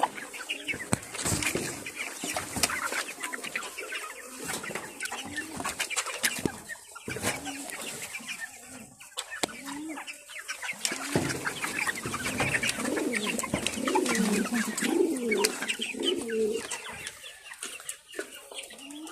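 Backyard chickens being fed vegetables keep up busy, overlapping clucking and squawks, with bursts of wing flapping and scuffling, close and fairly loud throughout with no talk.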